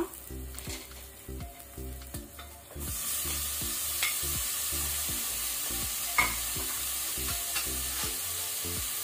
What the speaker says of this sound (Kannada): ಇದನ್ನು ಸಹ ನಾವು ಮೀಡಿಯಂ ಟು ಹೈ ಫ್ಲೇಮ್ ಅಲ್ಲಿ ಫ್ರೈ ಮಾಡ್ಕೊಳ್ಳುವ